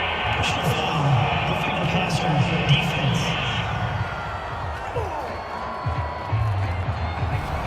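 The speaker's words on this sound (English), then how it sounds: "this crowd does not like that call" Stadium crowd in a Steelers at Jaguars football video game roars in broad, sustained disapproval after a roughing penalty flag, a loud continuous wash of many voices with a commentator talking over it.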